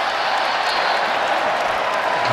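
Basketball arena crowd roaring steadily as a player takes his first NBA free throw, a dense, loud wash of cheering and applause that holds level throughout with no single voice standing out.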